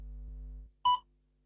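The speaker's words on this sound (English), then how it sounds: "Please begin speaking after the beep." A single short, clean electronic beep signalling the start of speaking in a TOEFL speaking practice test, following a fading low hum and standing alone in quiet.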